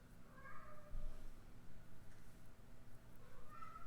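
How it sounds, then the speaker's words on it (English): A cat meows twice, faint and somewhat distant, the calls separated by a few seconds over a low background hum. "that's Jasmine in the background, meowing"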